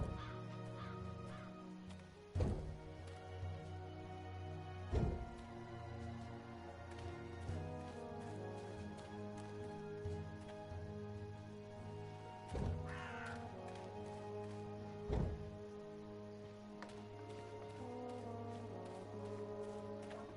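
Harsh, repeated cawing of a black raven in the video game Dreamfall Chapters, sounding from time to time over a steady droning game soundtrack, several sharp calls spread across the stretch.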